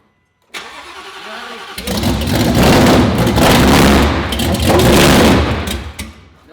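A 2019 Roush Stage 3 Mustang, running after a blown engine, cranks, catches and roars loudly up close. It settles into a rough, choppy idle that surges and dips, with no voices.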